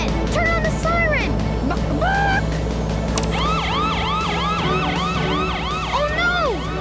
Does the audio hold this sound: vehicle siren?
yes